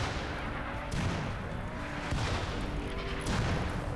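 Artillery volley from a ship in the Rimworld video game, a steady rumbling barrage of dense low booms with several heavier swells, continuous and fairly loud throughout.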